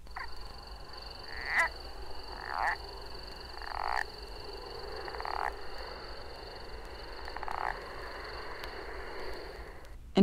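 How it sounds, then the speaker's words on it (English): A southern leopard frog gives about six separate squeaky, rubbing calls spaced a second or two apart, like a rubbed balloon, over a hissy background with faint insect or frog drone. "Then, a sound reminiscent of rubbing a balloon."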